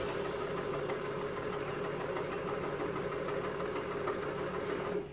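Sewing machine stitching a neckline hem on a DIY crop top, a steady close mechanical whir with rapid even clatter running without pause for about five seconds, then stopping.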